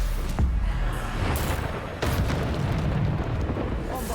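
Booming spell blasts from the Bombarda curse in Hogwarts Legacy rumble through a hectic duel, with sharp bursts near 0.4 and 2 seconds riding on a continuous roar of combat noise.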